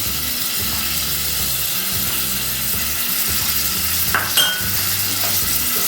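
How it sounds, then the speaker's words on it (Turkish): Minced meat frying for a Turkish pasta dish, with chopped parsley being stirred in; a steady close sizzle runs throughout, with scraping and clinking of the spoon against the pan. "Maydanozları çok kavurmaya gerek yok."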